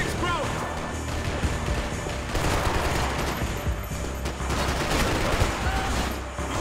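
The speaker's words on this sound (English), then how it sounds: "we've just got some fat gun battle going off now" A gun battle in Max Payne 3, with dense, continuous bursts of gunfire and impacts crackling through the whole stretch, loud and busy with speech mixed in.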